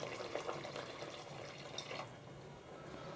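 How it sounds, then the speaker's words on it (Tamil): Coconut milk pours from a cup into a pressure cooker of mutton for biryani, a soft, faint liquid splashing and trickling for a few seconds before tapering off. "1 கப் தேங்காய் பால் இதை ஃபஸ்ட்டு ஆட் பண்ணிக்கிறேன்."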